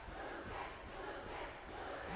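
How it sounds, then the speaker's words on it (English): A crowd cheering at a youth wrestling tournament, a faint, continuous wash of shouting and cheering voices with no single standout call. "You can hear the crowd cheering Lucas."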